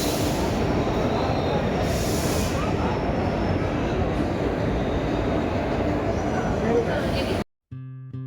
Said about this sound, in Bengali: এই ধনধান্য ট্রেনটা বেলডাঙার পরে পলাশীতে স্টপেজ দিচ্ছে